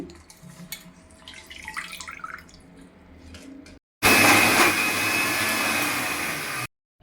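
Mixer grinder whirring steadily as it grinds soaked chana dal, toor dal and chilli into a coarse paste, a loud continuous motor roar that starts abruptly and cuts off after a few seconds, preceded by quieter kitchen clatter.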